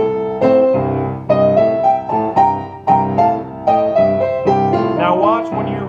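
Solo blues piano in C playing a lick with a pickup on the and of four, bright chords struck in a steady rhythmic pattern of repeated stabs, close and clear with no voice over it.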